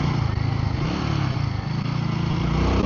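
A Royal Enfield Guerrilla 450 motorcycle's 450 cc engine thrums close and steady, with a low, pulsing exhaust beat that wavers slightly in level throughout, with no talking.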